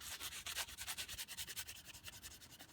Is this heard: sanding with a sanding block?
yes